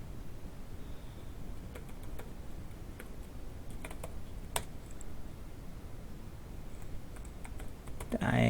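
Soft keys on a computer keyboard tap in loose, irregular clusters, close but faint over a steady background hiss.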